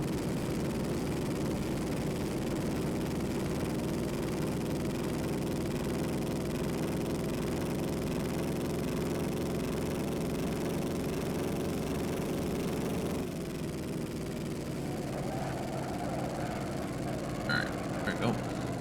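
A 1932 Studebaker Indycar engine in Assetto Corsa drones steadily and loudly, its low throbbing note holding for a long stretch, then easing off to a quieter tone with brief higher sounds near the end.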